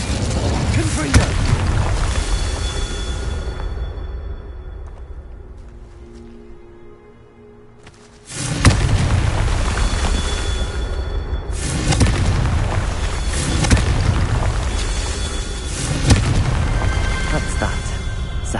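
Repeated booming blasts from the Confringo explosive spell in Hogwarts Legacy, loud, close and rumbling, with a short quieter lull before more explosions resume; a voice speaks over the blasts.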